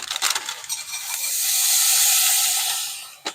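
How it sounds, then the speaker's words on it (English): A steady sizzling hiss builds and holds as spinach fries in a pan hit with oil spray, with a few clinks and scrapes at the start and a sharp tap near the end. "hit it with a little bit of an oil spray and then add the spinach"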